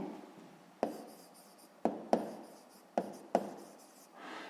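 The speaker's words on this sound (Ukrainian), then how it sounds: "записуємо відповідь" A pen or marker scratches out a maths answer for a sixth-grade exercise in short strokes, each starting with a sharp tap and trailing off, about five marks in quick, uneven succession, close and alone.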